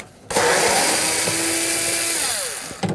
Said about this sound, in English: And then I'm going to remove the element as well. Just undo this nut.